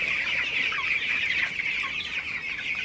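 A flock of twenty-day-old broiler chickens clucks and chirps continuously, with many overlapping birds close by and a dense, even chatter throughout and no talking.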